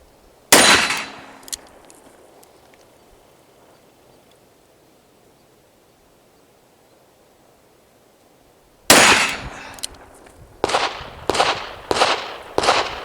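Loud, sharp .44 Magnum revolver shots with 300 grain rounds: a single close report with a short echo, a long quiet gap, then a burst of five rapid shots in quick succession.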